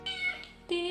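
A cat meowing for food at home, two clear close meows in quick succession, the second sharper, with no talk over them.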